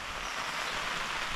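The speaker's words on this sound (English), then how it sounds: "And the rain is hitting with very strong winds." Heavy rain driven by strong winds beats down steadily around a campsite in the Lake District, a dense, continuous wash of drumming drops with no voices.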